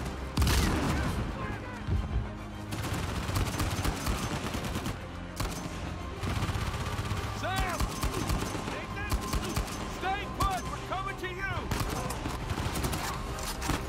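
Repeated gunfire in Uncharted 4, with bursts of rapid automatic shots and single cracks scattered across a busy battle, loud throughout, and a voice speaking intermittently under the shooting.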